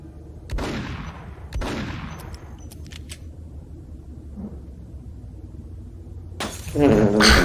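Max Payne video game gunfire with breaking glass: two sharp shots with decaying shatter tails, a faint thud later, then a louder burst of crashing glass and noise at the end.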